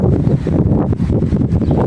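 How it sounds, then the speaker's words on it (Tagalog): Low, buffeting wind rumble battering the microphone, constant and loud throughout, with no voices. "medyo maingay yung ating audio kasi mahangin dito"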